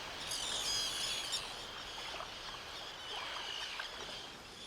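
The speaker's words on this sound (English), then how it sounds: "right behind me is a great colony of terns" A large seaside colony of about 800 pairs of common terns, with some Arctic terns among them, calling continuously at a distance as a dense, overlapping wash of chirps and shrill cries with no talk.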